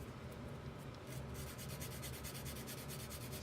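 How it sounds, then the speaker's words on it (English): Quiet, steady rubbing of a sanding stick against a plastic model kit part, working off the pour block, a soft rasping texture with rhythmic strokes, no talking. "sanding stick to work off the rest of the pour block."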